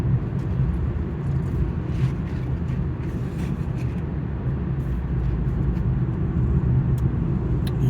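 Steady low road rumble from an RV cruising at about 40 mph, a continuous engine and tire drone that holds even throughout with no other sounds on top.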